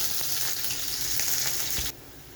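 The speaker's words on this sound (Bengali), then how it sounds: "পেঁয়াজ ভাজা হয়ে গেছে" Chopped onion sizzles in hot oil with whole garam masala while making a soybean curry, a steady close-up frying hiss that cuts off abruptly near the end.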